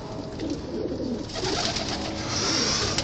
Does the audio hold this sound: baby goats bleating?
no